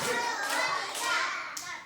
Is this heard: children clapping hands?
yes